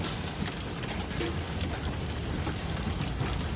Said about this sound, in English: we're into a 2-minute hailstorm. it's popping.